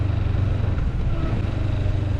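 Kawasaki Vulcan S motorcycle engine lugging low in fifth gear while climbing a hill at about 40 mph, a steady, loud, low drone with no talking.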